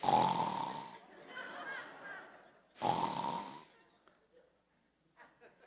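A voice imitates loud snoring, two long rasping snorts with a pause between, followed by quieter breathy sounds fading away.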